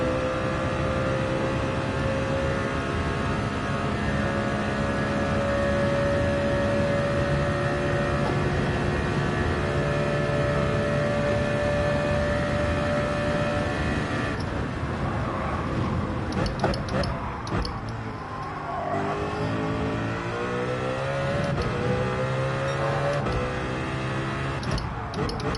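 Car engine in the racing game Gran Turismo 7 holding a high, steady rev with droning harmonics, then sweeping through gear changes and revving up and down in the later half, loud and continuous.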